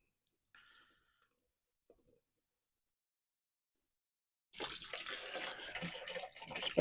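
After a few faint clicks and near-silence, water suddenly gushes into a homebrew container for a mango pale ale kit, a steady close splashing pour.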